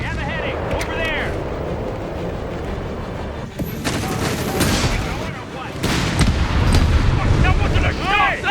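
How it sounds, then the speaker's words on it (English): A landmine detonates in Company of Heroes 3 during a large 4v4 battle, a loud burst among ongoing gunfire and artillery, with game voices shouting over the chaotic combat. "That wasn't a shot! Landmine!"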